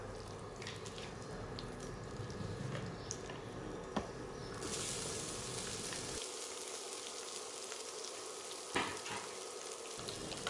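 Sliced onion frying in oil with chana dal, curry leaves and chillies for a brown rice tiffin, a soft continuous sizzle with occasional faint stirring clicks, fairly quiet and without voices.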